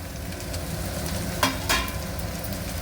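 Onions and potatoes fry in a pan for Telangana-style aloo barada, a steady close sizzle with two brief louder scrapes of stirring partway through.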